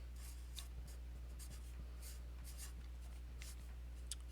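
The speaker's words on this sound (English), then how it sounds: "So I'm going to go to a piece of paper and write this out." Pen scratching out an equation on a sheet of paper, a steady run of short close strokes and taps over a low constant hum, with no voices.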